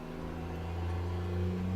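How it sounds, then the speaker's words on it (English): A loud car passing nearby, a steady rumbling engine drone with a slight swell in volume as it goes by, heard alone without talk. "That car that went by was so loud."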